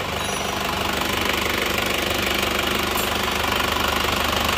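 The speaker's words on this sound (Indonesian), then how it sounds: "Untuk suara mesinnya insya Allah halus ya ini." An Isuzu Panther engine idles at about 700 RPM after a major repair, giving a steady, loud, even drone with a faint rhythmic knock running through it and no voices.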